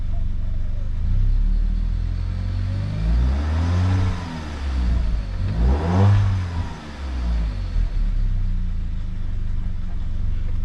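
A VW Mk5 Golf engine with a suspected high-pressure fuel pump or cam sensor fault runs steadily with a deep exhaust rumble, revving up twice in the middle before settling back to a loud idle.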